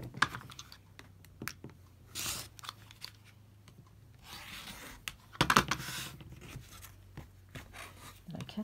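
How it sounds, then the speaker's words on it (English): Scissors snip fabric along a seam, with a series of quiet, close crisp cuts and rustles spaced irregularly, interspersed with soft handling noises and a few murmured words. "So then I'm going to cut that off."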